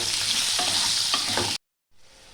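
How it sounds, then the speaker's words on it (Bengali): Potatoes frying in a pan with salt and turmeric, a loud continuous sizzle with a couple of stirring scrapes, cutting off abruptly and returning faintly after a short silence. "হলুদ অল্প পরিমাণে দিয়ে আমি এটা ভালো করে লাল লাল করে ভেজে নেব।"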